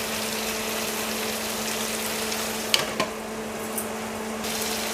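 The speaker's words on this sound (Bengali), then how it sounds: "এর সাথে এই যে টমেটোগুলো দিয়ে দিচ্ছি" Tomatoes added to chicken liver frying in a pan: a steady, close hiss of sizzling oil runs throughout, broken by a couple of light clinks just before the midpoint.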